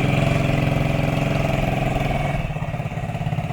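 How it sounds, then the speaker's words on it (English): Aprilia Mana 850 motorcycle engine running close and loud with a steady throbbing pulse, easing off slightly toward the end. "this lovely machine we can ride one-handed. It's the Aprilia Manor 850."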